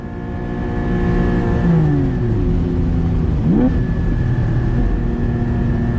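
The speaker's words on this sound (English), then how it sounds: "God, that car sounds good, man." A sports car engine revs inside the cabin during an onboard run, a loud sustained drone that sweeps up and down through gear changes, with a brief voice beneath it.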